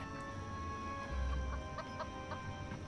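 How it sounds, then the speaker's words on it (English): Chickens cluck now and then from inside a ramshackle coop, a few short soft calls spaced out over a steady low background hum. "It was a ramshackle chicken coop with infrequent clucks emanating from within."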